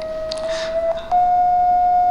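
An electronic eye color sensor, heard through bone conduction, sounds a steady pure tone for grass that shifts slightly in pitch partway through and then holds, with faint background noise and a couple of soft clicks.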